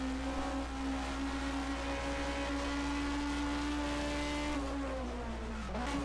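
A 1980 DRM Division 2 race car drones steadily at speed on the circuit, then its engine pitch dips as it downshifts near the end, heard faint and distant without talk.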